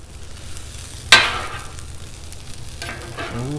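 Beef fried rice cooking on a Blackstone griddle, with a low steady sizzle throughout and a sharp scrape or clatter of a spatula striking the surface partway through, then further stirring near the end.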